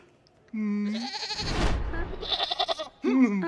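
A goat bleats loudly several times in quick succession, wavering cries with a noisy burst in between, close to the listener.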